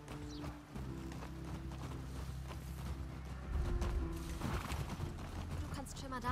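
Horse hooves and a whinny from a horse being tied up in The Last of Us Part II, with clip-clopping and creaking gear at a steady level under game music, plus a louder burst of movement midway.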